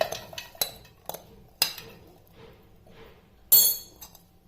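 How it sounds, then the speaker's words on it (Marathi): Green peas pounded in a small mortar and pestle: sharp, irregular knocks and clinks, a few louder strikes among softer taps, close and alone. "आता माझा खलबत्ता छोटा आहे त्याच्यामुळे मी थोडं थोडं कुटे"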